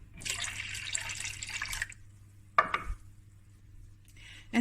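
Full cream milk is poured from a cup into a bowl for a Cape Malay milk tart, a close, steady liquid rush lasting under two seconds, then a few knocks and a brief second splash.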